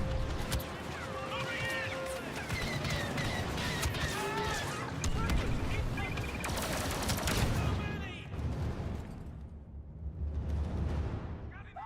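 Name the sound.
gunfire in a Warhammer 40K video game battle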